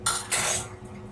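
A metal utensil stabs into clumping mac and cheese in a pot, two quick sharp clinking jabs close by followed by softer scraping, with no voices.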